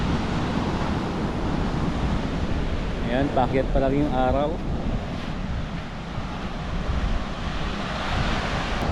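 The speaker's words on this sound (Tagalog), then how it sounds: "Malakas yung hangin dito. Tapos nadadala yung alon, kaya malalaki yung alon." Big sea waves driven by strong amihan wind at dawn give a continuous loud roar of surf and wind buffeting the microphone, with someone speaking briefly partway through.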